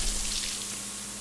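Water in the video game Tenchu Z, a brief rushing, hissing splash like running water that fades quickly, with a low steady hum beneath and no talking.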